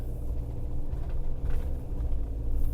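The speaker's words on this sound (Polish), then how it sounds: "Specjalnie dla Was jedziemy na najgorszą drogę" An Ilusion XMK 740 motorhome with a 140-horsepower engine rumbles along a rough road, its low engine and tyre noise bumping and droning steadily from inside the vehicle.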